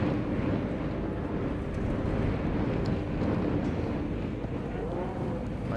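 Strong wind buffets the microphone at a motocross racecourse during practice, a steady loud roar of gusts running unbroken throughout with no voices.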